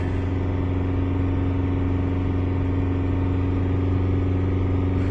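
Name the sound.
car engine revved to 2000-3000 RPM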